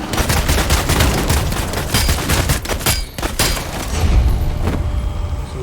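Gunfire in the video game Vampire: The Masquerade Bloodhunt, loud rapid bursts and single shots overlapping with booming thuds, dense and continuous without talk.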